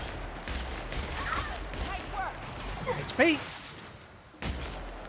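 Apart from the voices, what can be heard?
gunfire in video game The Outer Worlds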